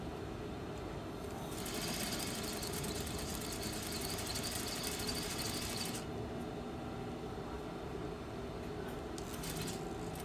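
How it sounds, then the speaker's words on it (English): A sewing machine stitching a straight seam toward a tack runs with a steady, fairly quiet mechanical whir, and a busier, faster chatter of stitches swells in the middle before settling back to a low hum. "now I'm gonna sew in a straight line all the way up to here"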